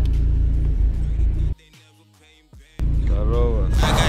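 A car or van pulls up nearby with a loud low engine rumble and whir, then drops to near silence before the engine noise returns strongly; no speech is heard over it.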